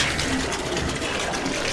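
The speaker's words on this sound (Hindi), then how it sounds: "थोड़ा सा पानी अपने ऊपर डाल लेंगे" Water from a hot spring at Vashisht near Manali is poured over a person, a loud, steady broadband gush and splash that fills the whole moment without pause.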